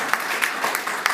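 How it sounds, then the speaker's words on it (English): Brief, sparse clapping from a small audience at a Calgary UNIX Users' Group meeting before a LibreSSL talk, a few separate claps spaced evenly over a faint room background. "So let's give another round of applause for taking that 4 hours."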